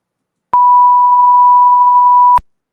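A loud, steady electronic beep triggered from a soundboard during a live stream, a single pure tone held for about two seconds with abrupt clicks at onset and cutoff, alone against silence.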